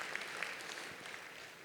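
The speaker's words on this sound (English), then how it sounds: "Just a little applause." Steady applause from a crowd at a university commencement, a dense even patter of clapping that carries through without pause, moderately loud.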